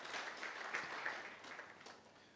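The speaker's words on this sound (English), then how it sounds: "Warm round of applause to the monk of Sayed." A gala dinner audience gives a short, faint round of applause that keeps a steady patter of clapping and then tapers off.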